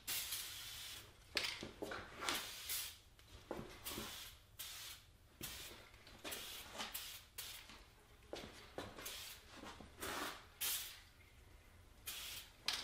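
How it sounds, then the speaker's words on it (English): Repeated bursts of spray hiss from an aerosol can of Teflon coating applied to tools, short and long blasts in an irregular rhythm, close by and fairly quiet, with no talking. "To apply it, it's simply a matter of spraying on an even coat."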